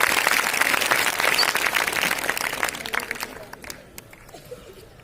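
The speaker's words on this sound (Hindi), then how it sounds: "एक बार जोरदार तालियों के साथ में स्वागत कीजिए" A school audience at an intermediate college prize-giving ceremony claps to welcome the principal, loud dense applause that thins and tapers off into scattered claps and quiet after about three seconds.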